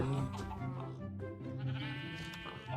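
Sheep bleating in the Minecraft video game, a couple of wavering nasal bleats heard close and clear over a faint background.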